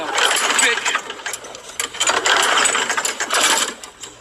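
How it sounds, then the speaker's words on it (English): A faulty lawn mower engine sputters in uneven, choppy bursts close to the microphone over about four seconds. "Fucking lawnmower."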